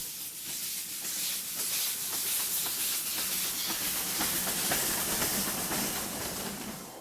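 Loud, steady steam hiss from a steam locomotive in Ecuador with a faint rhythmic clatter of rail cars underneath, continuous throughout with no voices.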